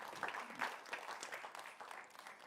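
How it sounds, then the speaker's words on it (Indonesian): Faint, distant applause from an audience at a mayoral candidates' debate in Makassar, a steady patter of many hands clapping for a couple of seconds. "Kita berikan tepuk tangan pada masing-masing pasangan calon"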